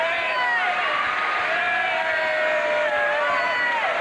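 A packed boxing crowd in Bethnal Green, London roars and cheers without a break, loud and steady throughout, with shrill whistles and whoops rising above the din.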